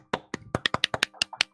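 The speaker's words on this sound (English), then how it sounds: "You get some applause" Live hand clapping for a guest on a horror-themed talk show, about a dozen sharp, evenly spaced claps in a quick burst from one or a few people close by, with no talk over it.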